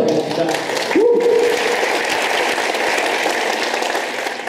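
At a comedy hypnosis stage show in Guarulhos, the audience applauds continuously, a broad wash of clapping with voices and a brief whoop rising over it.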